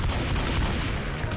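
Gunfire from Left 4 Dead 2 aimed at a Boomer zombie, a brief burst of loud, dense shots in quick succession.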